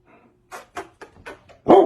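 A dog gives a short series of soft yips and whimpering barks, close by, ending in one louder bark.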